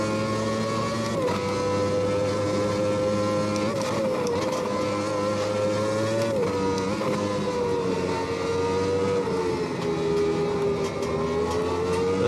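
A Formula Classic Gen3 race car at Silverstone 1991 in Automobilista 2 screams along at a loud, sustained pitch, its engine note sagging and rising through gear changes and corners without any talking.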